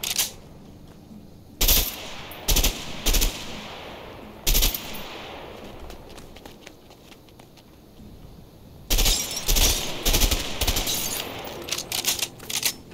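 An MP5 submachine gun fires at empty houses in a video game, with several short bursts of loud automatic fire separated by quieter gaps, then a longer run of rapid bursts near the end.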